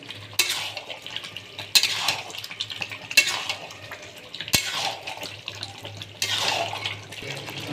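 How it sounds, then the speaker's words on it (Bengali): Country chicken meat boils in a pot, with a steady bubbling simmer broken by intermittent clatter and scrapes of stirring against the metal. "দেখুন ইয়ারে আমাদের দেশি মুরগির মাংস ফুটছে"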